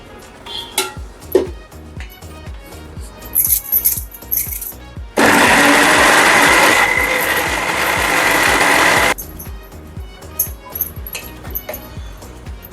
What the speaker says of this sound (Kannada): ಟೊಮೆಟೊ, ಈರುಳ್ಳಿ, ಶುಂಠಿ ಬೆಳ್ಳುಳ್ಳಿ ಪೇಸ್ಟು, ಹಾಗೆ ಗೋಡಂಬಿ ಬಾದಾಮಿ ಎಲ್ಲ ಹಾಕಿದ್ನಲ್ಲ, ನಾನಿವಾಗ ಇದನ್ನು ರುಬ್ಕೊಂಡ್ಬಿಡ್ತೀನಿ ನೋಡಿ